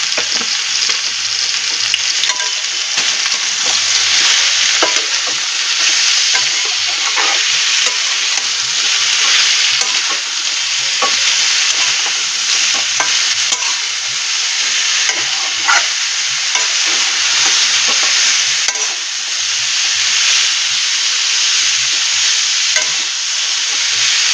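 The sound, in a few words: many vegetables frying for shukto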